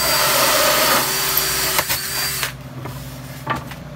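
A power drill turning a 1.5-inch hole saw, a steady whirring drone that stops after a couple of seconds, followed by a few clunks and a lower hum.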